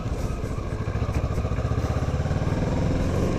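A motorcycle rides slowly in first gear below 15 mph, its engine thumping in a quick, even pulse, loud and close throughout.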